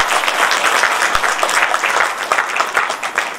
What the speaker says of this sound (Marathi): आणि यांच्यासाठी एकदा जोरात टाळ्या वाजवा.